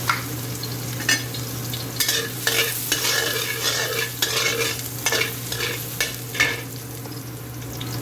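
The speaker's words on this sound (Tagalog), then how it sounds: "Stir fry string beans with beef." String beans and beef stir-frying in a wok, with repeated scraping stir strokes over a steady sizzle, close and fairly loud, no talking.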